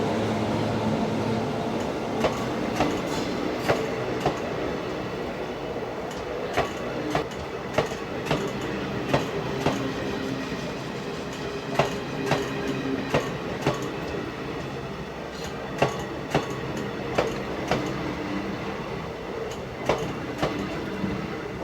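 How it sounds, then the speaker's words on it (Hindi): Hisar Amritsar Express train running on rails, a steady rumbling roll with regular clickety-clack wheel beats over rail joints, loud and close throughout with no talking. "दोस्तों ये है हिसार अमृतसर एक्सप्रेस।"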